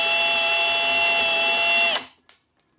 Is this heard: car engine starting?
no